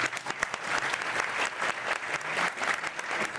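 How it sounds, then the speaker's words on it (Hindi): Audience at a youth picnic talk in Kolkata breaks into steady, dense applause, a continuous patter of many hands clapping that fills the moment without any speech. "ताली दे सकते हैं।"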